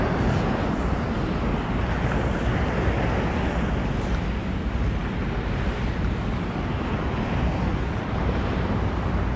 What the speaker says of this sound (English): Notice how tame the waves are in the Atlantic Ocean.